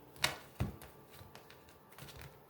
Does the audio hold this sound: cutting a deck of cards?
yes